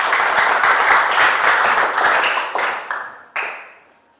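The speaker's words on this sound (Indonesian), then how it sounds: "berikan aplaus buat dia" A classroom audience applauds a student, dense steady clapping from many hands that swells briefly and then trails off in a few fading bursts by the end.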